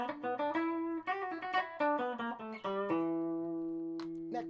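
An LTD H50 electric guitar played clean through the bridge pickup into an Orange TH30 head, a 3x12 cabinet and a reverb pedal: a run of plucked notes and chords, each ringing out, ending in a long sustained chord.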